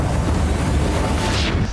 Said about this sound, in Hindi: यूक्रेन की राजधानी कीव में रूसी सेना ने 7 ब्लास्ट किए।